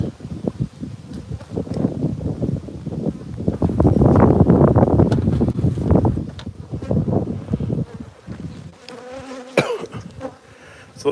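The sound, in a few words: bees buzzing at an opened hive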